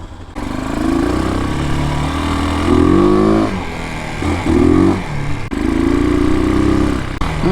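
A Chinese CG motorcycle engine fitted with a new Nibbi PWK carburetor, running close by and being revved repeatedly in short bursts between idle stretches, with a sharp click near the end.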